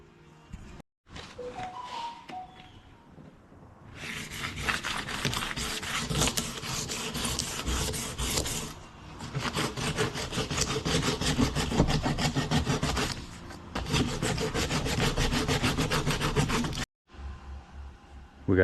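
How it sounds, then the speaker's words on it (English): Handlebars from a quad being sanded by hand, a steady scratchy rasping that runs in long continuous strokes with brief pauses, close and fairly loud with no talking. "We got the handlebars all sanded up"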